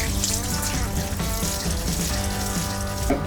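Running tap water pours into a sink to rinse freshly boiled spaghetti under cold water, a continuous close splashing stream lasting the whole moment.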